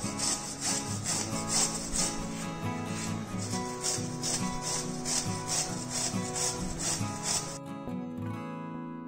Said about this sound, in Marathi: आता आपल्याला या कैऱ्या किसून घ्यायच्या आहेत।